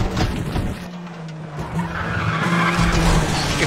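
Car braking hard and skidding in Need for Speed The Run, a loud sustained tire squeal over engine roar that swells toward the end.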